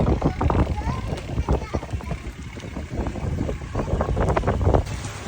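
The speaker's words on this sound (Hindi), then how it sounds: "बारिश एकदम से तेज़ शुरू हो गई है दोस्तों, तेज़ बारिश।" Heavy rain driven by strong gusty wind outdoors, a dense roaring wash with buffeting wind noise on the microphone, while someone talks over it.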